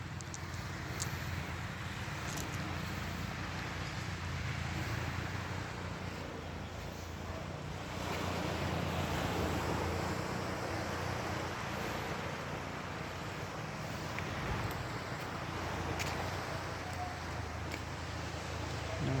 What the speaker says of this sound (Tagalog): Alon sa dalampasigan.